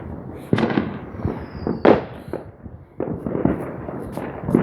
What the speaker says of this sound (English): We are surrounded by a whole bunch of fireworks that we're watching out there.